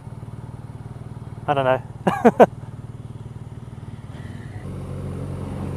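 A 2014 BMW R nineT motorcycle ridden around town gives a steady low engine drone, with a short spoken phrase and brief vocal sounds over it midway and a slight rise in engine tone near the end.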